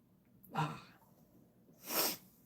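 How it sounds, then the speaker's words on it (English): Two short sneezy bursts about a second and a half apart, the second sharper and hissier, with quiet in between. "I can feel another sneeze coming on."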